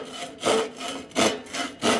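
A hand saw cuts wood along a kerf while fitting chines, giving four rhythmic rasping strokes close by. Each push is a loud, broad scrape separated by short pauses, with no talking.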